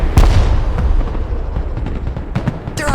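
Artillery volleys in the Broken Arrow video game, a rapid series of loud booming shots with sharp transient blasts over a continuous rumbling battle backdrop.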